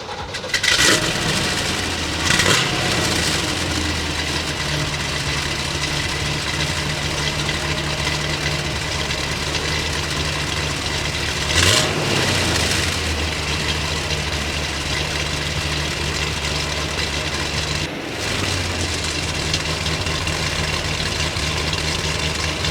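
A fuel-injected 1963 Corvette convertible engine cranks and fires, then settles into a loud, steady idle with a low rumble, broken by a couple of brief blips before the even idle resumes.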